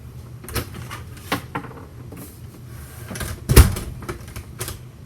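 A door that previously would not latch swings shut and clicks into its latch, with a few sharp knocks and taps, then one louder close, near and alone.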